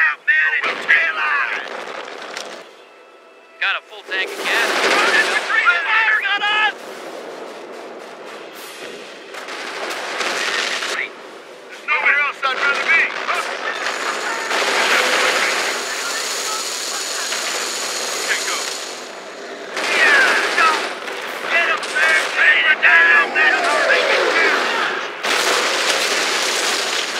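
Gunfire and explosions crash through a war video game battle, dense bursts and booms that come and go, with shouted voices among them.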